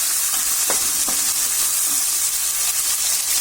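Chopped tomatoes sauté in a pan for radish sambar, a continuous bright sizzle with a few soft stirring knocks, close and steady throughout.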